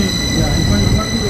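A train pulls into a Swiss railway station with a loud continuous rumble and rolling wheel noise. High steady tones ring over it, and faint voices sit in the background.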